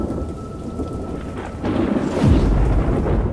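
Heavy rain pours down steadily as a loud thunder rumble builds and swells in the last second, close and dense with no voices over it.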